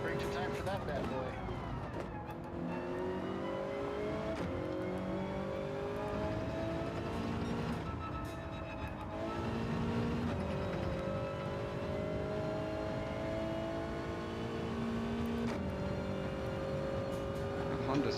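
Racing car engines whine and shift pitch through gear changes in a sim racing game on the Nürburgring, including a Honda, heard as a continuous loud engine drone with rising and falling tones under steady talk.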